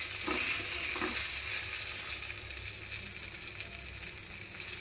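Ridge gourd pakoras frying in hot oil give a steady, dense sizzle with faint bubbling throughout, easing slightly toward the end, with no voices.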